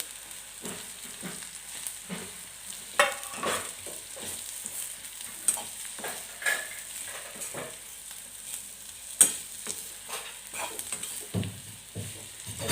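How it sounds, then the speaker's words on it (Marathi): Fried bitter gourd pieces are stirred into a spicy masala in a pan, giving intermittent scraping and clattering stir strokes over a soft sizzle, close by and without speech. "त्याच्यामध्ये हे कारलं आपण तळून घेतलेलं कारलं ते ॲड करते"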